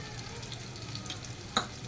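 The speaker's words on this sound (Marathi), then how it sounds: "मिक्स करून घ्या थोडीशी." Spoon stirring turmeric through onion and garlic frying in oil, a low steady sizzle with faint scraping and one sharp clink of utensil against the pan near the end.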